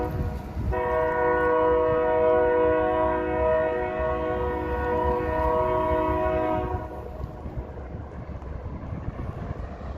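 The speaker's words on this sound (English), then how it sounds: "There's a train right there." A train horn blasts in one long, steady chord over the heavy rumble of a passing train, which keeps rolling after the horn stops.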